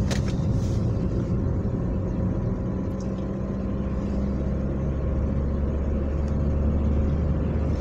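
An interior car ride: a steady, loud low engine and road rumble continues evenly throughout, with no talking.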